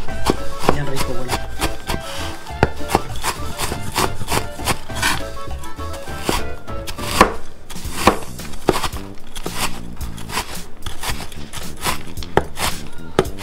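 A knife chops loroco flowers on a board in a home kitchen, a steady run of close, fairly loud thuds and cuts that goes on without a break.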